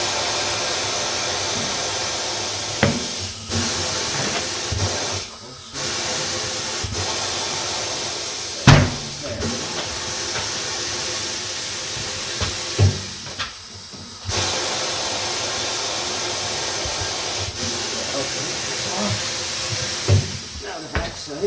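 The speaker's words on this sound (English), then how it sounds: "we're gonna go ahead and break the bead now" A pneumatic KATOOL tire changer breaks a tire bead with a loud, continuous air hiss, broken by sharp thuds and clunks from the machine, and some faint speech.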